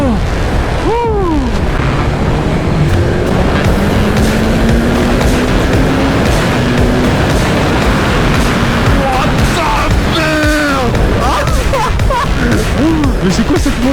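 BMW S1000XR motorcycle being ridden hard, engine note sweeping up through the gears under loud wind buffeting, with a rider's voice exclaiming over it.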